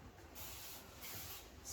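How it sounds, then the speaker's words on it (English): Scissor spray hisses steadily in short continuous bursts onto a dog's coat during a pet trim, a soft, airy spray sound with no talking. "I can actually get my scissor spray and just give it a little bit of a"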